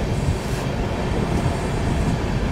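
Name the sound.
Humsafar Express passenger train running on rails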